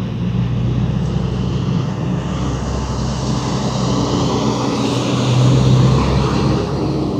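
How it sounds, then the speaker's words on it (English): A big truck loaded with sand rumbles past a small-town post office in Maine, a loud, continuous low engine roar that swells slightly toward the end. "That's a big truck with a lot of sand in the back."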